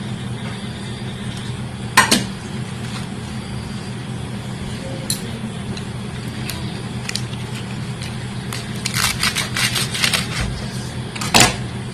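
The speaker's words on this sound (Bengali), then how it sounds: "এখন আমি শাকটা কচি করে কেটে নিয়ে নেব।" A knife chops fresh young spinach on a cutting board in a home kitchen, giving scattered, light clicking taps that come irregularly and gather into a quicker cluster near the end, against a steady low background hum.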